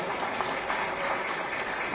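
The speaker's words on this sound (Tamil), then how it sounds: "இதுக்கே செல்லிக்கு ஒரு கைத்தட்டி கொடுக்கலாமியா" An audience at a Tamil political meeting applauds, dense continuous clapping heard at moderate level without a break.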